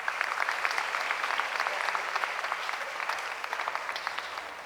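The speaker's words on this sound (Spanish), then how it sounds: "Un aplauso." Steady applause from the audience at a ballet academies' closing ceremony, a dense crackle of many hands clapping at moderate distance, continuous with no talk over it.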